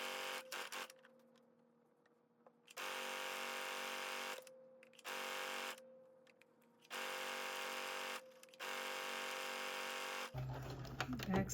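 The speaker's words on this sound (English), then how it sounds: "Stitching it all the way closed." A sewing machine stitches a sweatsuit seam closed in several separate bursts of steady whirring, with short quiet gaps between runs, a constant faint hum underneath, and a different sound taking over at the very end.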